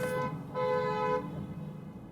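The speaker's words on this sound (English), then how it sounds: "Why is someone horning, and where?" A Porsche Panamera in a wedding procession sounds its horn in two bright tonal honks, the second a bit longer, heard from inside another vehicle over low road rumble.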